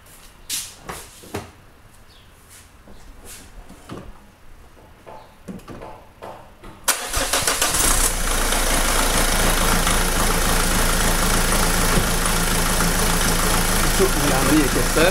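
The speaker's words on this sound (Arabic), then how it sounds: "تو باش نديمارو المحرك" A Dacia Logan dCi diesel engine with a Delphi system starts up after quiet workshop sounds and scattered clicks. It then settles into a loud, steady, rattling idle close by.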